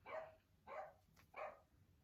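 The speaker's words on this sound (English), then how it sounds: "my bad if you heard my dogs. They be barking all the time." Three quick dog barks in a row, evenly spaced and fairly faint, as if from another room.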